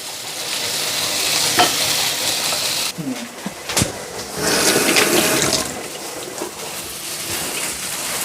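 Peppers frying in hot ghee in a nonstick pan give a steady broadband sizzle with stirring and scraping, a short dip about a third of the way through, then louder hissing bursts.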